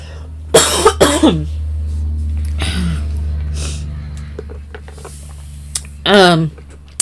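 Several harsh coughs burst out close to the microphone, spaced apart with a low steady hum underneath and quiet breaths in between.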